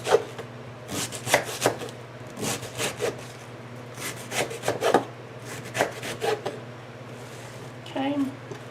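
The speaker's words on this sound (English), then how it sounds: "because the noodles are long, I'm going to cut this" A knife slices through long noodles on a cutting board, a series of repeated soft chopping and scraping strokes in uneven rhythm, fairly close, with a steady background hum.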